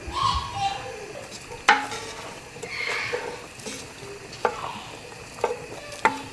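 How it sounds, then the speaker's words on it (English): Onion and garlic softening in a pan for lasagna filling, a soft sizzle under repeated utensil scrapes and a few sharp clinks against the pan, close up. "So I'm gonna put the onion and garlic on and do that for like 10 minutes till it softens."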